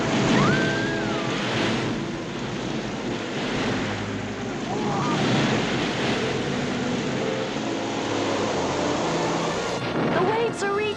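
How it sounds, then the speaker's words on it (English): Cartoon ocean waves surge and crash against Noah's Ark over a steady wind roar, a continuous, full wash of surf lasting about eleven seconds. "The waves are reaching us."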